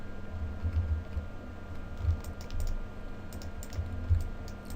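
Soft, scattered key presses on a computer keyboard, faint and irregular, with a few clustered taps over a low room hum.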